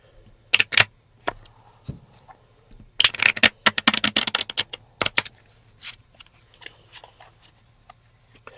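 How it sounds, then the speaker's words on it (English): Playing cards for the APBA Soccer board game are shuffled in quick crisp bursts of riffling and tapping, close and alone, with pauses between runs. "I'm going to do 2 more shuffles here, so bear with me."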